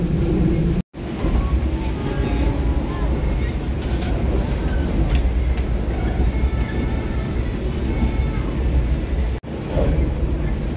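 Passenger train on the KA Pangandaran panoramic service in Indonesia, a loud continuous rumble and rattle of the carriage in motion with a couple of sudden cutouts and faint voices inside.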